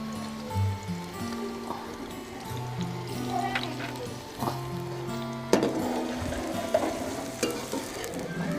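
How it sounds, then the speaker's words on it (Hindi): Sliced onions fry in hot ghee in a pan for mutton qorma, sizzling softly beneath clinks and scrapes of a stirring spoon, with a few sharper knocks against the pot partway through. "अब प्याज़ों को जो है ना हम फ्राई करेंगे तकरीबन जब तक ये ब्राउन हो जाए।"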